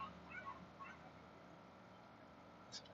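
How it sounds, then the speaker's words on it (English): A dog barks a few short, faint yips early on, heard at a distance from a car driving through southern Brooklyn, over steady low road and cabin noise. "Dog's barking."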